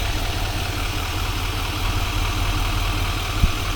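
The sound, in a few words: Chevy Silverado 2500HD Duramax 6.6 diesel engine idling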